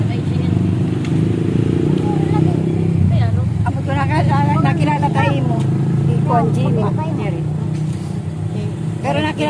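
A motorized tricycle, a motorcycle with a sidecar, rumbles steadily through Manila traffic, its engine drone continuous and near while people talk over it and brief street noises pass.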